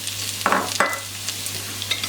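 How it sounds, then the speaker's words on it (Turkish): Carrots and onion sautéing in a pan over high heat, a steady bright sizzle with a few stirring scrapes and clatters near at hand, no voices. "havuçları öncelikle yüksek ateşte soteleyeceğim, kavuracağım"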